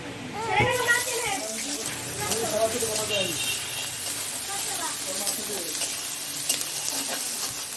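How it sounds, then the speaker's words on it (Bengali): Onions hitting hot oil in a wok give a steady, close frying sizzle with stirring scrapes, while a voice and other voices chatter over it through most of the stretch. "কড়াইয়ে তেল দিয়ে দিচ্ছি, তেলটা গরম হয়ে গেছে। এর মধ্যে এখন পেঁয়াজগুলো দিয়ে দেবো।"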